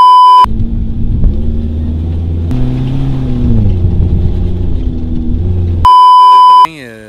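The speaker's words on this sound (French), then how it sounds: "Ce que vous entendez, c'est vraiment la machine puis le bruit qui se passe dans l'habitacle." A 2019 Discovery automatic UTV engine drones and rumbles inside the cabin, its pitch rising and falling while driving, bracketed by loud electronic test-tone beeps.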